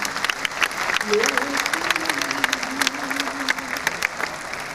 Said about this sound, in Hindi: आपकी तालियां कमजोर रही